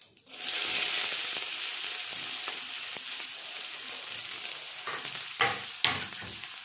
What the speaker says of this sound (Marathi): कांदा 2 मिनिटं परतून घेते